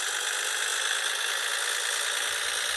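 A Volvo F-16 truck engine drones steadily in the video game Cargo Transport Simulator, a flat, continuous mid-pitched hum with light rattle and no clear break as it moves up to seventh gear.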